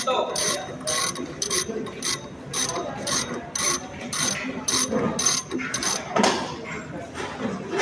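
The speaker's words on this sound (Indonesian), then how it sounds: "ratchet tools. Berfungsi untuk membuka dan mengencangkan bolt." A ratchet wrench loosening a bolt, giving close, steady bursts of rapid metallic clicking in repeated strokes, heard alone with no talking.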